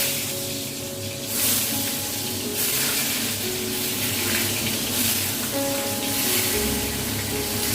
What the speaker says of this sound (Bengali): এদিকে প্রথমে পটলটা ভেজে নিচ্ছি, তারপরে ওই তেলেই আলুটাও ভেজে নেব।